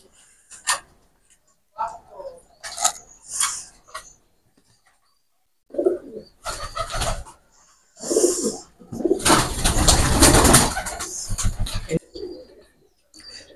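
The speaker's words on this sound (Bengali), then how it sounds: "কবুতর আছে।" Pigeons in a cluttered breeding room and flying loft coo in short, separate bursts, near and fairly loud, with a longer burst of flapping near the end and no talking.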